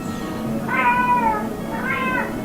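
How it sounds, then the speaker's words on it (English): A cat meows twice, clear and fairly close, each call a drawn-out tonal mew over a low steady background hum. "Cats."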